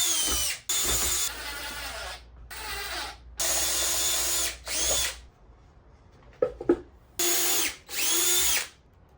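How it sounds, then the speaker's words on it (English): A power drill whirs loudly in several bursts, boring a hole in the back of a wooden speaker box, starting and stopping repeatedly, with brief quiet gaps and small clicks between runs. "We'll drill a hole in the back for the speaker wire to run through."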